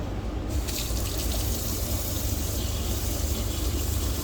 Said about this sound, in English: So we got the water tank filled on this one.